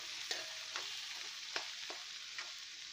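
Sliced onions sizzle in hot oil in a pan for onion theeyal, a steady close frying hiss with a few sharp scrapes of a spoon stirring, and no talk.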